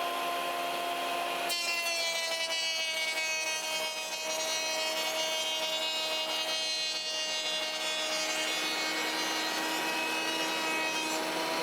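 An old planer smooths a wooden guitar neck blank, kicking in after a moment with a loud, steady droning whine and rasping wood noise that holds throughout.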